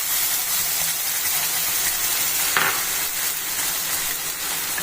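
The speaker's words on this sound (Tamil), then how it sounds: "நல்லா இதை கண்ணாடி பதத்துக்கு வதக்கிக்கிறணும்" Onions sauté in oil in a pan, a steady, loud, close sizzle and hiss that runs throughout, with a brief stirring scrape partway through and no voices.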